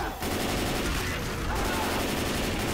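Rapid, dense gunfire sprays at zombies in Left 4 Dead 2, loud and continuous for a few seconds with a voice shouting under it.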